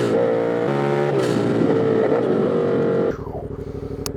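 A turbocharged motorcycle, revved hard, roars loudly and steadily up close, then drops sharply as boost air dumps out of the plenum and the engine settles into a lower, pulsing idle.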